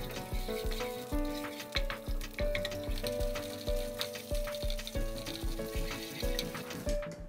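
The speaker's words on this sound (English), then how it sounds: "Add pepper paste and oil, fry a little." Pepper paste fries in oil in a pan for spinach borani, giving a steady close sizzle with light crackles and faint tonal music underneath.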